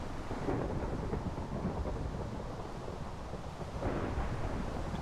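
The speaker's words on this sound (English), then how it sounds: "Man, this is one heck of a thunderstorm." Thunderstorm in a fantasy video game, a steady low rumble of thunder with rain noise, swelling in two heavier rolls, continuous and fairly loud with no talk.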